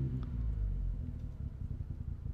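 A 2005 Skoda Octavia 1.8T 20V vRS with a lean-running bad idle fault, heard as a steady low engine rumble close by, continuous through the whole short stretch with slight unevenness and no talk.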